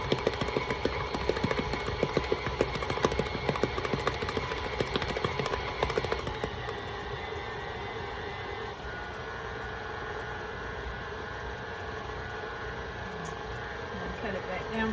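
Electric hand mixer beating cupcake batter at a higher speed, a steady close motor whir with rattling beater clicks through the first half that later smooths into a constant hum.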